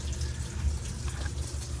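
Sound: washing machine filling up with water

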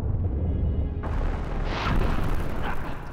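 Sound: fire breath attack in the video game Vagrant Story

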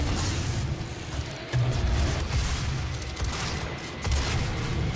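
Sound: rocket launcher firing in the video game DOOM

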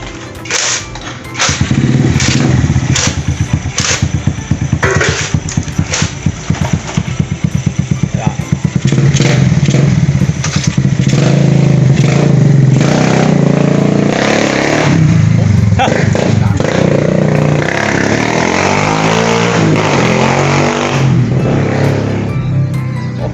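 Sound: Smash 115 motorcycle engine during test drive

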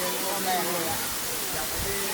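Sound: Takhro waterfall flowing

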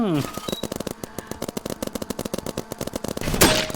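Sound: paintball gun shooting in Roblox BIG Paintball video game

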